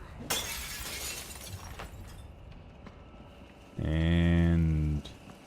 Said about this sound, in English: And we're smashing.